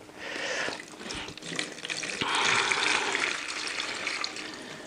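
Mold treatment solution being poured into a container for cleaning wood: a continuous splashing, gurgling liquid stream that swells midway and keeps running close by, with no talking over it.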